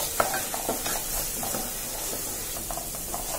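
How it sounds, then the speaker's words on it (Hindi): Red chilli powder masala for a crab curry fries in a pan with a constant sizzle. A spoon stirs and taps against the metal in scattered scrapes and clicks close by, with no talk. "लाल मिर्च पाउडर एक चम्मच, इसे अच्छे से भूनेंगे, मिक्स करेंगे"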